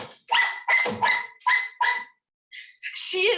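A dog barks in a quick run of five sharp, loud barks, pauses briefly, then lets out two more, close by.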